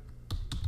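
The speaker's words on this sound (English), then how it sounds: "you can type here" A few keystrokes on a computer keyboard while typing a social media post, two short clicky bursts spaced about a fifth of a second apart, close and fairly quiet.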